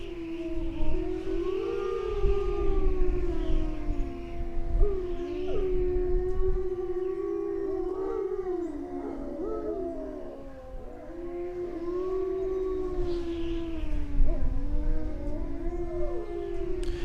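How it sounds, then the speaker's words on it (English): A wolf pack howls in chorus in winter in Yellowstone National Park, many long sliding voices overlapping and weaving continuously, fairly close and steady in loudness. "the entire pack began to howl"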